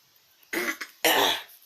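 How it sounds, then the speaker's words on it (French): Two harsh coughs, the first a short double burst and the second a longer, louder hack, close up with no talking. "Désolé, je tousse un tout petit peu."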